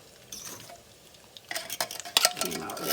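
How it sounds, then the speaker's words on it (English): A spoon stirring Van Camp's pork and beans with rice in a pot, a few soft scrapes followed by a flurry of clinking, scraping metal-on-pot sounds, close and fairly quiet. "mix it together."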